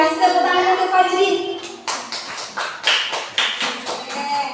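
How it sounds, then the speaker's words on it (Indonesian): A voice speaks, then a few separate handclaps ring out in a slow, uneven rhythm, close and fairly loud. "Kasih tepuk tangan"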